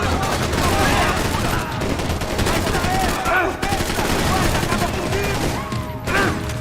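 Dense, continuous gunfire from a Max Payne 3 gunfight, with bursts and shots layered over one another throughout, while someone talks excitedly over the shooting.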